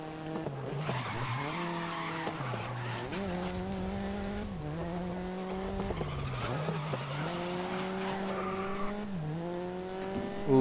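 Race cars in the racing game Grid, with engines whining steadily at high revs, shifting pitch up and down through the gears, and tyres squealing on and off throughout, loud and continuous with no talk.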